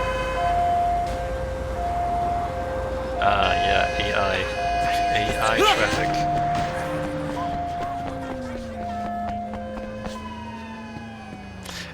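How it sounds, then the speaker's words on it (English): Ambulance siren in the video game Sleeping Dogs, a steady two-tone wail cycling across the scene among AI street traffic, with someone talking over it. "The ambulance arrived immediately."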